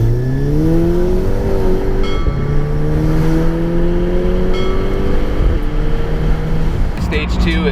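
A Stage 2 tuned VW MK6 GTI with downpipe and updated tune accelerates loudly and up close, its engine note climbing steadily through the revs in repeated pulls, with a shift-like break partway and a sharper burst near the end.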